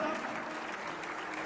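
A seated crowd at a political program in Chandigarh breaks into sustained applause, an even, continuous patter of many hands with no talking on top.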